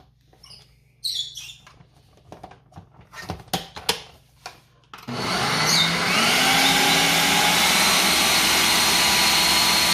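Quiet kitchen clatter and taps give way to an electric mixer switching on and beating room-temperature butter and sugar for a Christmas fruit cake, a steady close whir running to the end.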